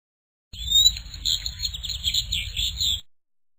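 High, rapid bird chirps and tweets trill continuously for a few seconds over a low rumble, then fade out.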